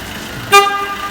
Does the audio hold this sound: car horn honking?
yes